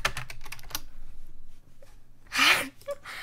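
Quick bursts of typing on a computer keyboard, a rapid run of close key clicks followed by a few scattered taps, with a loud breathy burst near the end.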